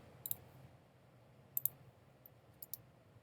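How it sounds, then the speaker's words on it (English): A keyboard space bar is pressed three times in a quiet room, each press a faint, crisp double click spaced about a second apart. "you can hit the space bar on your keyboard"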